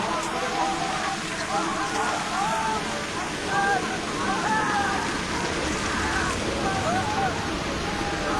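Steady rain hisses throughout, with voices talking over it at moderate level.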